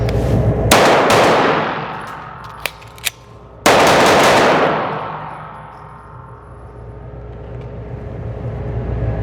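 Two loud handgun shots ring out during a rental-range pistol test, the first near the start and the second about three seconds later, each with a long reverberant tail, and small metallic clinks fall between them.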